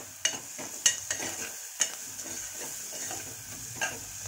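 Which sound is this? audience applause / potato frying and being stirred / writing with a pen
potato frying and being stirred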